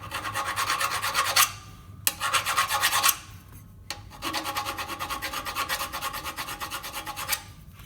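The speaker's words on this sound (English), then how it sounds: "We've got to do the filing again." Harsh rasping of a file on a metal rear shock guard for a Toyota Land Cruiser in several long strokes, with short pauses between bursts, close and loud.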